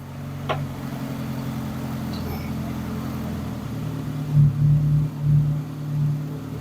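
A Morris car engine idles steadily after the choke is taken off, a low even rumble close by with a faint click early on and a few brief swells of revving toward the end.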